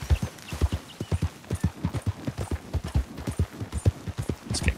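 Hooves of a galloping horse in Red Dead Redemption 2 pound in a steady, fast clip-clop rhythm, loud and close, with no talk over them.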